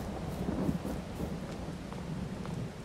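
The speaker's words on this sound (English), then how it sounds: "Actually looks more like a thunderstorm than rain." A thunderstorm in Farming Simulator 22 brings steady heavy rain with a low rumbling thunder roll, a continuous dense wash of sound with no voices.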